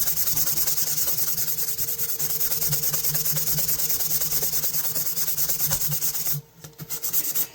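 A cloth rubbed back and forth along an old knife blade during a rehandle restoration, dense continuous close scraping friction in quick strokes, loud and alone, easing off briefly near the end.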